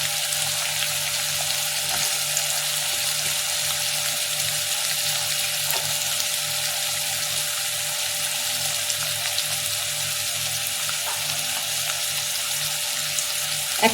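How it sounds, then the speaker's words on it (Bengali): Tomatoes and onions sizzle in a frying pan for paneer masala, a steady, even hiss with a few faint clicks, continuous and unbroken throughout. "আর তার সাথে টমেটো ঢেলে দিচ্ছি।"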